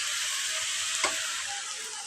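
Pitha rice cakes fry in a pan with a steady, soft sizzle throughout, broken by one brief louder crackle partway through.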